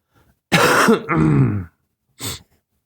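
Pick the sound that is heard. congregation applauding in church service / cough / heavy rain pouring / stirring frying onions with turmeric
cough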